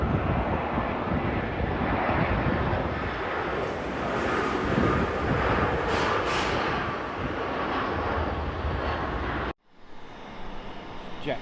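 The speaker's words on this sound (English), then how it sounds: "That's EasyJet's A320 coming in from Geneva." An EasyJet Airbus A320 arriving at London Heathrow on its landing approach, a loud continuous broadband jet roar with wind buffeting that holds steady for about nine seconds, then cuts off abruptly to quieter background.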